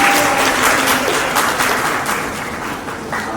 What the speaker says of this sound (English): So give it round of applause for Shalini